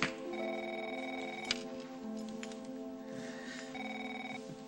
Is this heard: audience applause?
no